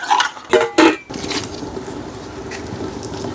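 Metal lid clanks down in a few sharp knocks onto a cooking pot of duck kala bhuna, followed by a steady soft sizzle of the duck cooking underneath.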